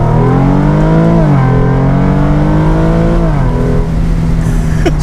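A Mercedes SL350 engine accelerates hard, its loud, steady note climbing smoothly in pitch with brief dips at gear changes, close up and with no talk over it.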